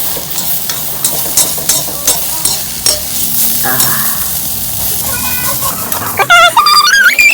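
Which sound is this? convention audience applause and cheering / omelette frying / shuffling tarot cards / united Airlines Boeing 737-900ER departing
omelette frying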